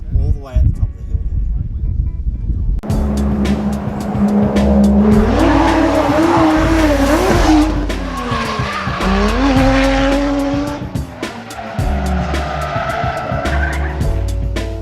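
A Nissan Skyline R32 drift car runs at Ebisu's School Course. Its engine roars, its tires squeal, and its skids rise and fall continuously. The sound carries from a distance across the track, and a voice talks over it.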